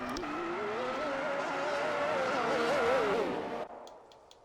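Formula 1 race cars in a racing video game roll through a formation lap at steady engine drone, one close engine whining and wavering in pitch for several seconds before the sound cuts off to near quiet, with faint clicks afterward.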